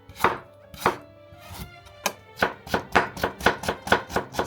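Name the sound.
knife julienning thinly sliced ginger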